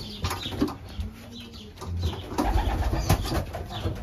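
Young racing pigeons in a loft coo and shuffle nearby, with soft murmuring calls, brief wing flaps and scattered thumps over a steady background hum.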